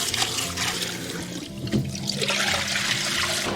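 Raw chicken wings being rinsed under a running tap, with a steady close stream of water splashing and trickling continuously, no talking.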